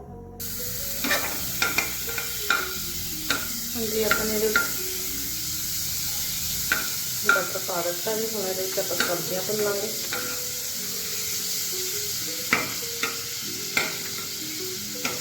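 Butter and Maggi masala tempering sizzles and crackles in a pan for white sauce pasta while a utensil scrapes and stirs in bursts; a voice speaks briefly early on.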